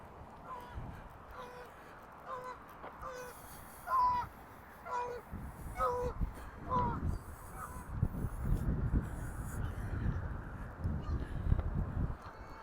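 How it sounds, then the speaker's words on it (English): Geese honk in a series of calls while flying over a lake on a chilly September walk in Regina, faint and somewhat distant, with wind and footsteps rumbling beneath. "Geese in flight."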